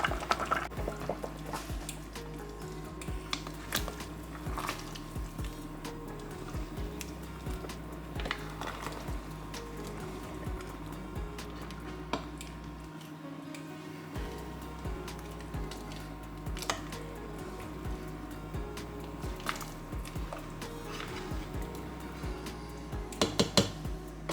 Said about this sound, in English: One more spinner, and I'm going to stir the pot.